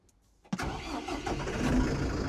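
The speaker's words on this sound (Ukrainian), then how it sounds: "Давайте зараз заведемо цей трактор" A Grassfield mini tractor's diesel engine cranks and catches abruptly, then settles into a loud, steady rumbling idle that builds slightly in strength.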